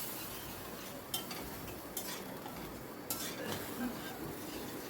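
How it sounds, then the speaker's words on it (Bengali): Spice masala stir-fried in a pan with a little water, a quiet, steady sizzle broken by a few sharp scrapes and clinks of a spatula against the metal. "আবারও আমি অল্প অল্প জল দিয়ে মশলাটাকে ভালো করে কষিয়ে নিচ্ছি"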